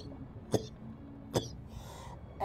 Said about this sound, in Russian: Кашляет очень плохо,